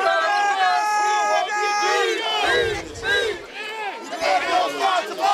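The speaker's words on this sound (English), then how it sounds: "as the crowd is rocking and shaking the tripod here" A packed high school football crowd at a Dollarway vs Warren game roars from the stands, with loud, sustained yelling and chant-like cheering that swells and surges throughout, close and full.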